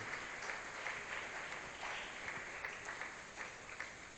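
A church congregation claps during a sermon on receiving a miracle, a faint but continuous patter of applause spread evenly across the whole stretch.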